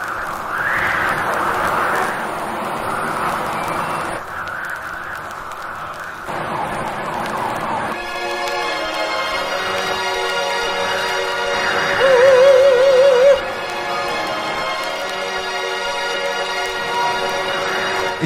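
A track played from a dub plate: a hissy, noisy opening gives way to dense, sustained tonal layers with a wailing siren-like line, loud and continuous, with no talking.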